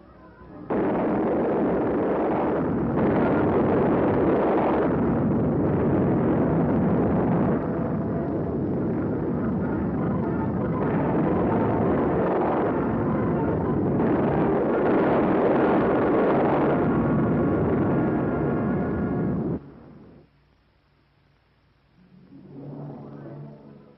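An Operation Sandstone nuclear bomb test detonation produces a long, heavy, rumbling roar that holds steady for about twenty seconds before falling off, with a muffled, band-limited quality.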